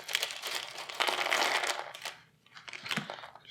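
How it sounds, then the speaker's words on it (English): Plastic bags holding board game terrain pieces crinkle and rustle up close in a dense, continuous burst that trails off, followed by a few softer crinkles. "Oh, we got 2 plastic bags. I will open this up then."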